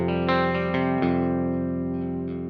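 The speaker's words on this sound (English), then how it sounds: "So you can hear it's clean, but it's trying to break up." Sustained electric guitar chord through a JOYO Clean Glass pedal with more drive added and coil-tapped pickups, ringing clean but edging toward breakup, with a few soft re-picks and a slow decay.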